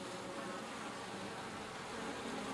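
Bees hum around the frames of a horizontal beehive, a dense close buzzing that stays continuous and fairly quiet through the short moment, with no voices.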